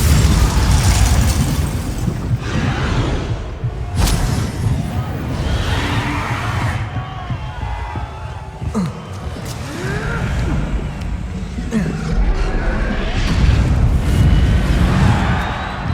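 Confringo blasting spells going off in the video game Hogwarts Legacy, repeated loud booming explosions and bursts over a dense battle soundscape, with voices in the mix.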